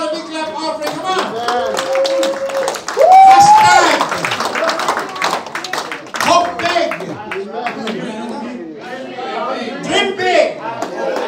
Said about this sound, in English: Let's give God a big clap offering.